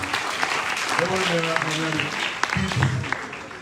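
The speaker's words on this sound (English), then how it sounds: "Please, let's clap for the future of this city." Applause at a Freetown town hall meeting on city division plans, steady clapping from a crowd, mixed with voices talking and calling out over it.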